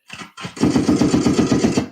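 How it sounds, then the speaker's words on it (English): Rapid burst of gunshot sound effects fired as a salute: after two short shots, a loud sustained volley of evenly spaced rattling blasts, like automatic gunfire, with no talk over it. "let me give him a gunshot salute, man"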